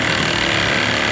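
A reciprocating saber saw cuts through a steel steering shaft lock on a car, a loud, continuous grinding buzz with steady hammering vibration and no talk.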